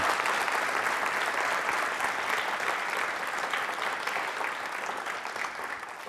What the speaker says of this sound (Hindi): तालियां जोरों से बजाइए इस संकल्प के लिए।